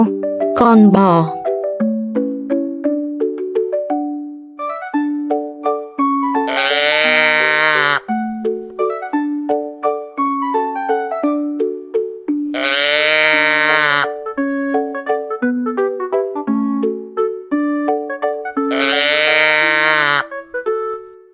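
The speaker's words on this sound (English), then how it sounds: "Cow. Con bò." A cow moos three times, long drawn-out calls a few seconds apart, each standing out over a light, tinkling music track.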